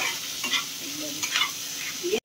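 Onions frying in a pan with hot oil, sizzling steadily while a utensil stirs and scrapes them in short bursts, close and fairly loud with no talk.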